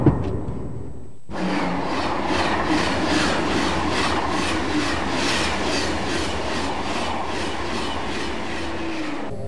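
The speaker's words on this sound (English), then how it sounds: "the train travels at up to 300 kilometers an hour" A Eurostar high-speed train bound for Paris runs at up to 300 km/h, a steady loud roar of wheels and rushing air with a rhythmic clickety-clack, heard from inside the carriage after a brief quiet start.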